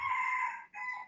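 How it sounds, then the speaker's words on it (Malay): A rooster crows in a single drawn-out call with a brief break before a final trailing note, heard alone and fairly clear behind an online mathematics lesson. "Ayam pun ada berbunyi ni."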